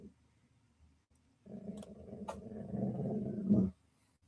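A dog gives a low, close growl that builds over a couple of seconds and then stops abruptly.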